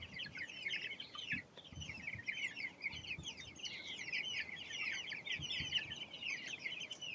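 Chickens on a pasture farm cluck and chirp continuously in a dense flock chorus at moderate distance, with scattered low thumps beneath.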